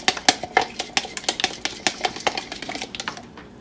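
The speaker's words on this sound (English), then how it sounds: "I'm going to beat the egg first, just a little bit with a spoon to crush the yolk" A spoon beating an egg in a bowl for low-carb hush puppies, rapid light clinking taps in a quick irregular rhythm, close and fairly loud, tapering off near the end with no speech.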